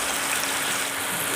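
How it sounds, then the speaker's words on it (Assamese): Water pours steadily into a pan of Assamese sour fish curry, a continuous close gush and trickle that runs unbroken with no talking. "অলপ ভিজাত মই ইয়াতে পানী দিছো।"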